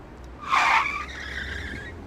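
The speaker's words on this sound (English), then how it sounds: "She heard cars slamming on their brakes." A sharp tire screech swells and fades into a lingering squeal, like a car braking hard on pavement, with no voices.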